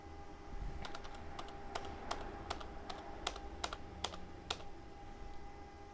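Quiet, close typing on a computer keyboard while working in an Office document, a steady patter of crisp key clicks with several louder, sharper keystrokes spaced through it, heard alone.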